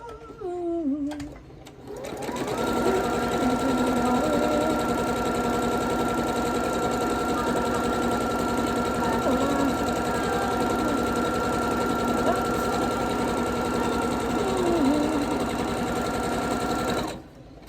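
After a brief stir, a domestic sewing machine runs in one long, steady whirring stretch of fast stitching at close range, then stops near the end.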